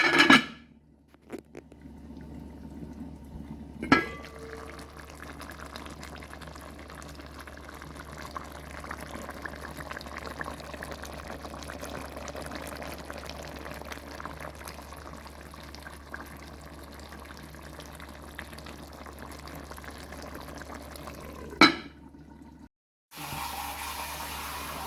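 Brown stew fish simmering in a covered pot, a steady, soft bubbling and hiss that runs continuously at low level, with a couple of sharp lid or pot clanks near the start and the end.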